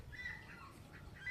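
Chinese geese near a village pond give a couple of faint, distant honks, short nasal calls rising over a quiet outdoor background.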